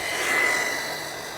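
A Kyosho RC car motor at full throttle gives a steady high-pitched electric whine, close and continuous, easing slightly toward the end.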